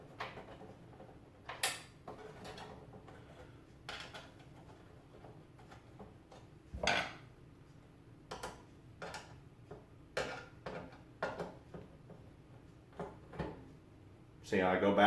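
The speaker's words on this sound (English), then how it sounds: "use the coarse threaded screws to go back into the plastic" Coarse-threaded screws turn by hand into the plastic of a Frigidaire ice bucket housing, giving sparse, close ticking clicks and small knocks with quiet pauses between them.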